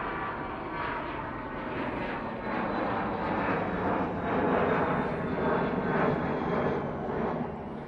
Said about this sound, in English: And we do have that Easyjet down at the bottom. There it goes, already up.